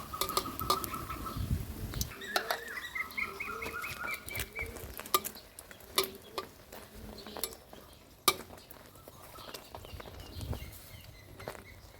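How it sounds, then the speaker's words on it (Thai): A Thai-style crispy omelette frying in hot oil in a pan, giving a steady soft sizzle with bubbling patter and occasional stirring scrapes and clicks throughout. "ค่อย ๆ ทอดไปเรื่อย ๆ นะครับผม จนกว่าไข่ของเราจะฟูกรอบนะครับ"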